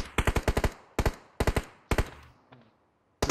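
Gunfire from a PUBG Mobile match, where an AWM sniper rifle is in play, comes as rapid close bursts of sharp shots in clustered groups, then a short pause and one more burst at the end.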